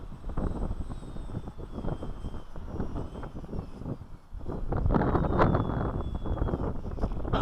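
Strong winter wind buffets the microphone in a heavy roaring rush while small foam model planes fly outdoors. A faint whining motor drifts high above, and the wind grows louder in the second half.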